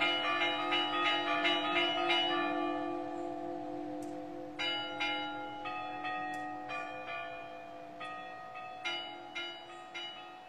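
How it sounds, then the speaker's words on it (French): Church bells ring for a wedding in a series of bright, resonant strikes with long ringing tails, fairly loud and close, with the clusters of strokes repeating at uneven intervals. "les cloches sonnèrent au son du trignou"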